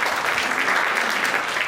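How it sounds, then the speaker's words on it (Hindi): Audience applause at a poster unveiling event, a steady dense wash of clapping that holds at an even level throughout with no break. "जोरदार तालियां"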